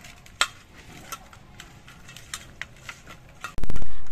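Sea fish being mixed by hand with salt and turmeric in a bowl, giving soft squelchy stirring sounds and a few light clicks, then a loud burst of handling noise at the end.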